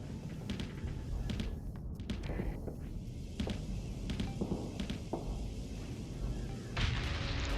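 A spaceship laser weapon fires repeatedly during space combat in the game Starsector. Sharp zapping bursts and impacts repeat in an uneven rhythm over a loud, steady background of engine hum and battle noise.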